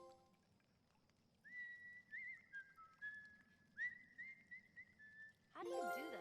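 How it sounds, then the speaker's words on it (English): Whistling by a character in The Last of Us Part 1 game, thin sustained tones in a few rising and held phrases over quiet background, followed by a brief burst of noisier sound at the end. "How do you do that? What, whistle?"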